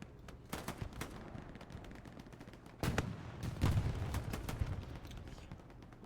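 Gunfire and artillery on a Hell Let Loose battlefield, sporadic distant rifle cracks and bursts followed by heavier booming impacts that rumble on for several seconds.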